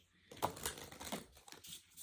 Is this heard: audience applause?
no